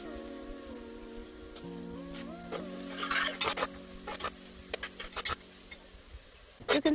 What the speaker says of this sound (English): Fry them well until it turns super golden brown.